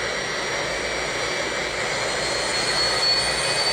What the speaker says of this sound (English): Like jet fighters.